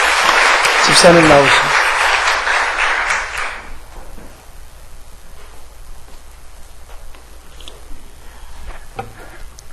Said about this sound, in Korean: 박수 한번 하시죠.